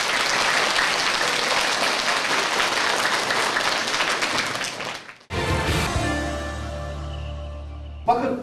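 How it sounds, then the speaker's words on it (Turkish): Audience at a school theatre show, a tolerance-themed play at Hotamış primary school in Karapınar, applauds in a dense, loud wash of clapping for about five seconds before it cuts off, followed by background music. "Hoşgörü gösterimi için alkış alıyoruz"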